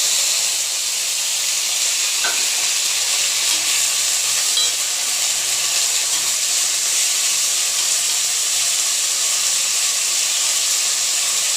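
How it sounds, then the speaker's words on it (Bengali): Ground spice paste fries in hot oil, making a loud, continuous close-up hiss and sizzle that holds evenly with no talking. "এবার দিয়ে দেবো আমার বাটা মশলাগুলো"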